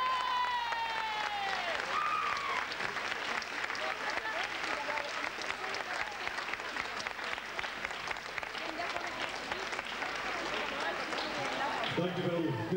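Hall audience at a 1996 Dutch artists' gala applauding a guest, dense steady clapping that fills the room throughout, with a voice starting to speak near the end.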